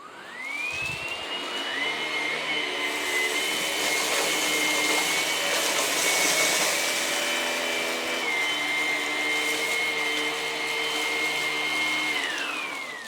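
A Vax ONEPWR Blade 3 cordless vacuum cleaner runs in boost mode on a rug, its steady high-pitched motor whine rising as it spins up, holding loud and close, then winding down near the end, with no talking.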